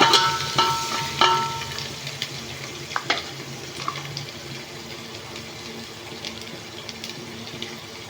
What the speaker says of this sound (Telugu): కరివేపాకు వేసుకుందాము ఇది బాగా వేగాలి మంచిగా కలర్ మారాలి